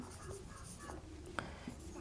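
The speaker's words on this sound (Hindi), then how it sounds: "यहाँ लिखते हैं" Marker or chalk writing on a board during a Class 10 trigonometry lesson, with short scratchy strokes and light taps, fairly quiet and steady with no talk.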